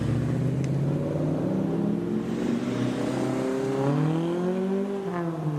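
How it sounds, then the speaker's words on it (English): Classic cars, an old Mustang and a Mitsubishi Lancer, drive on a dirt road during a classic rally, their engines droning steadily and rising in pitch as they accelerate, fairly close and loud throughout. "Old Mustang there and the Mitsubishi Lancer."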